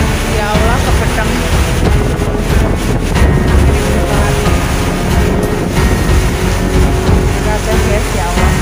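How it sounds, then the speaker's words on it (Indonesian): Strong wind storm with heavy rain battering Sukoharjo, a loud, constant roar of gusting wind and downpour with no letup, saturating the whole scene. "hujan deras yang disertai angin kencang itu menerjang dengan sangat kencang"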